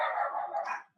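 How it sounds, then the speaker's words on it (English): Dogs barking indoors, heard as a short burst of close, loud barks that fill the moment and then stop abruptly. "that's my doggies you hear barking"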